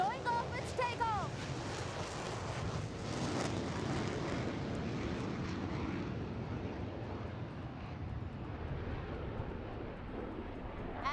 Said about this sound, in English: Tejas showing off its takeoff.